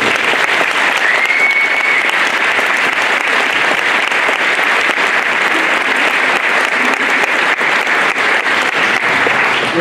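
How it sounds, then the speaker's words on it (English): At a school band concert, the audience applauds the middle and high school musicians in loud, dense, sustained clapping that holds steady for about ten seconds. "another round of applause for all of our incredible musicians today"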